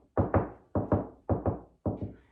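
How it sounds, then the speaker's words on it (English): Knuckles rap on a wall while searching for a stud. Four close, solid double knocks fall in an even rhythm, each pair a quick two-beat rap, with no talk. "a small method too is to just knock."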